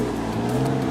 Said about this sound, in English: Here you go, Huracan Avio showing up.